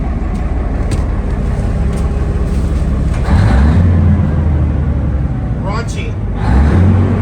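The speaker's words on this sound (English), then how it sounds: "It has the coolest, the most raunchiest Cummins engine I've ever heard in my life." A bus's Cummins diesel engine runs loud and close with a rough, raunchy idle, revving up twice in heavy surges under people talking nearby.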